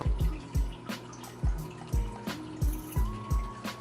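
Water in a 10-gallon tall fish tank splashes and drips in repeated close, irregular plops and gurgles while a fish is netted out, with no talking.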